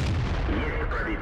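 A single heavy cannon shot from a Russian T-44 tier 8 medium tank booms in a tank combat video game, short and punchy with a deep low-end thump.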